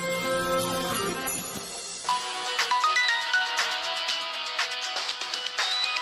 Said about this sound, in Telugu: రాజేష్ ఫోన్ చేస్తున్నాడు.